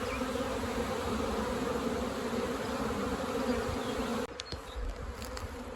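Dense, steady buzzing of many honeybees close by at a busy hive, flying in and out, a continuous droning hum that thins slightly near the end.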